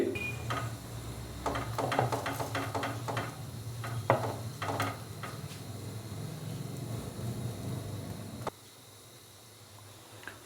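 Spanish omelette frying in a pan, Pakistani style, eased into place with a spatula: a steady close sizzle runs throughout with scattered scraping taps, then drops to a quieter hiss near the end.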